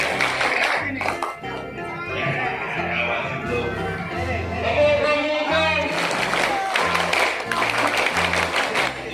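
Children's voices singing a lively tune while hands clap along in rhythmic bursts, loud and near, at a Scout gathering.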